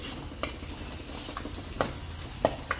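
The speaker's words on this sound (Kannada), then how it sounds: "ನೋಡಿ ಕೆಂಪು ಹುರಿಬೇಕು ಈರುಳ್ಳಿ" Onions fry in a pan with a steady low sizzle, broken by a few sharp clinks and scrapes of stirring, close and moderately loud, with no voices.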